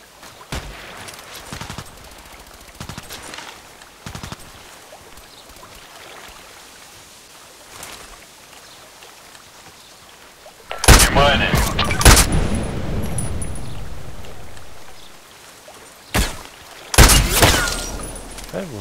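Sniper carbine shots in the video game Contract Wars: scattered single reports early, then a loud cluster of sharp bursts later, with a player talking throughout.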